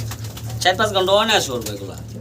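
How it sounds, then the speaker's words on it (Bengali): A pair of high-flying Giribaz pigeons with green necks, heard in a short, close coo with a rising and falling warble. "এটাও কিন্তু চমৎকার এক জোড়া হাই ফিলার গিরিবাস কবুতর"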